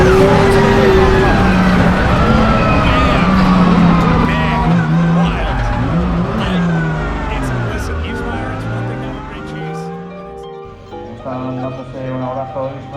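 A drift car's engine roars loudly on a race circuit in Spain, revving and shifting pitch as it slides past, with tyre noise and a commentator talking over it before the sound fades.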